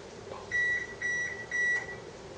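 A kitchen oven signals it has finished preheating with three clear, evenly spaced electronic beeps over a faint steady background hum, with no talking.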